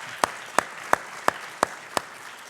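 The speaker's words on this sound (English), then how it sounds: "Clap it up." Rhythmic unison clapping at a college honors night, six sharp evenly spaced claps about a third of a second apart, crisp and close with a quiet room behind.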